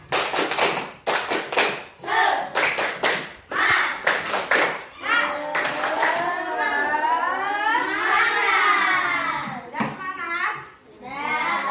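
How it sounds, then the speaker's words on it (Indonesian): A class of children at a school performs the tepuk semangat clapping chant, with bursts of rhythmic group clapping alternating with loud chanted voices, followed by sustained sung chanting. "Sebelumnya kita tepuk semangat terlebih dahulu"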